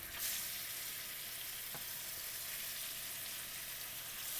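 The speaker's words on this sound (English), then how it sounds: "So now we're going to add our yams." Sweet potatoes, called yams, going into hot oil bloomed with paprika: a loud, steady sizzle and crackle of frying that fills the whole stretch, with one faint clink partway through.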